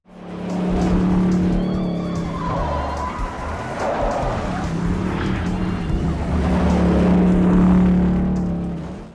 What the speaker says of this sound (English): The movie exists primarily as a delivery system for a 40-minute car chase.